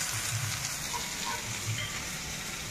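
Masala spices fry in a hot pan with a steady, close, dense sizzle and crackle that stays even throughout and has no talking over it.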